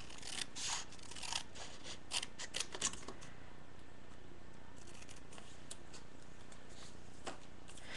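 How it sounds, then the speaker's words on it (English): Scissors snip through paper in a few quick, close cuts early on, followed by quieter rustling and handling. "I think I'm going to cut this strip."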